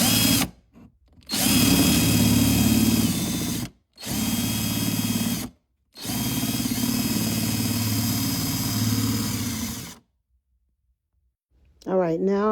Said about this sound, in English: I bought this drill off of Amazon, and it's very helpful in making holes for the lights.